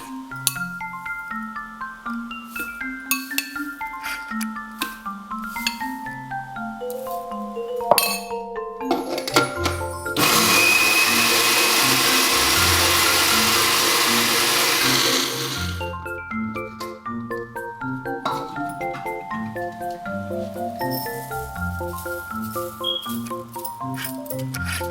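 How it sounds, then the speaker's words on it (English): A blender whirs through chili flakes in one loud, harsh burst lasting about five seconds, set between stretches of background music. "blend all of the chili flakes to make them finer"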